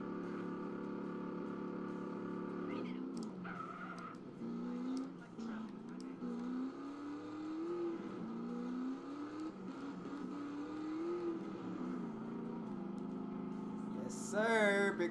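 A powerful motorcycle engine in GTA San Andreas revs and drones with rising and falling pitch, joined by other game sounds and a brief high squeal near the end, while someone talks over it.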